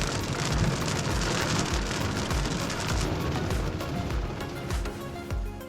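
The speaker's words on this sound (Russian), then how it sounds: "Молнии сверкают, гром гремит. Дождь то идет, то не идет." Rain drums steadily on a parked car during a night thunderstorm at a roadside stop on a long drive to Yakutia, with dense pattering throughout and low thunder rumbling underneath.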